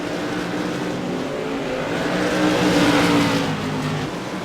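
Tour Modified race cars accelerate hard at Irwindale Speedway, a loud continuous roar of several engines that swells toward the middle and eases slightly at the end, with no talk over it.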